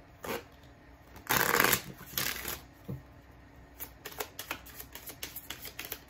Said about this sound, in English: I'm pulling 3 more romance angel cards, and then we will close out.